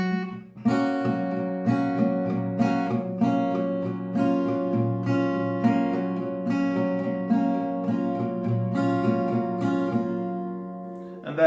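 Acoustic guitar strummed in a steady repeating pattern of a song, with accented notes forming a melody inside the strumming, close and clear throughout with no talking.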